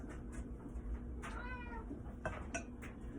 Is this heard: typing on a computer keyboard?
no